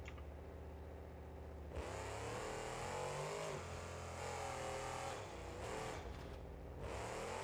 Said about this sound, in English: And here it's got new turbo sounds as well.